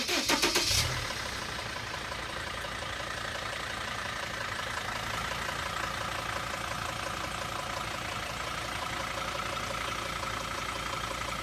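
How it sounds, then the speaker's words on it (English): A car engine cranks briefly for under a second, catches, and settles into a steady idle that runs on alone, loud and close. "Let me start that motor and watch what changes."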